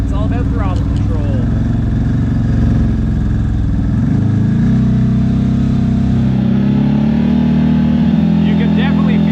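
A CFMOTO Z-Force 950 side-by-side off-roading at Windrock, Tennessee, its engine running steadily and loud, then revving up sharply in a throttle blip around the middle and holding at a higher pitch.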